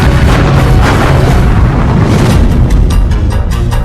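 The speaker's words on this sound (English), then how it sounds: "Sheets of flame explode from Yamato's massive guns." Main guns of the battleship Yamato firing in a naval battle, a loud, sustained booming roar of heavy artillery that fills the whole stretch without a break.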